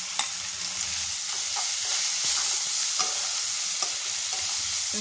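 Small-cut plantain and cashews frying in ghee, giving a loud continuous hissing sizzle close up, with faint stirring clicks scattered through it and no voices.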